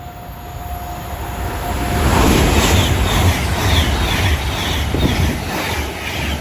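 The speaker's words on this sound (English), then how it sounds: "Soon to come through now will be a Fancy West Coast service passing from Manchester Piccadilly to" A West Coast passenger train from Manchester Piccadilly to London Euston passes at speed through Watford Junction on the West Coast Main Line, a loud, sustained roar and rumble of wheels on rail that swells midway and holds steady to the end.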